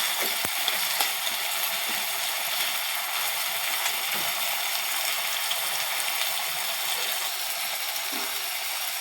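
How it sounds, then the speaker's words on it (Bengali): Garlic paste fries in a pan for a vegetable curry, giving a steady, close hiss with faint scraping and clicks from stirring throughout and no speech. "রসুন বাটা দিয়ে দেব, নেড়ে নেব।"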